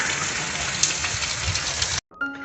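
Steady rain falls during a day of continuous downpour at a home in Bengal, a dense, even hiss for about two seconds before it cuts off abruptly to quieter indoor sounds.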